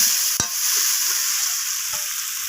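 Spiced bhetki fish head masala cooks down in oil with kohlrabi, a steady loud sizzle close by, broken by two sharp stirring scrapes of a spoon against the pan.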